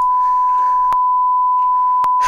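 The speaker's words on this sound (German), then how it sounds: "10 Sekunden Piepston gehabt, Leute" In Rocket League, one continuous steady beep tone drones at a fixed pitch for the whole stretch, loud and unbroken, with two short clicks cutting across it.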